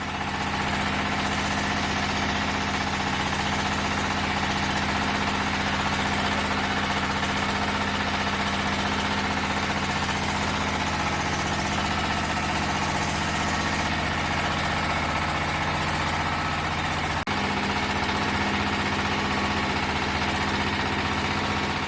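A diesel engine drives a fly ash brick machine with a constant loud, droning hum and steady vibration, running without pause, with one brief click partway through.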